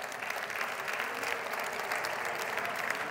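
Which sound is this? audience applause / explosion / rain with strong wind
audience applause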